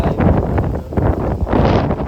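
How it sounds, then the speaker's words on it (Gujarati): Strong gusting wind of a cyclone in Morbi, Gujarat, roars and buffets the microphone in heavy, rumbling bursts, loud and continuous throughout. "ફૂલ સ્પીડમાં પવન છે અત્યારે"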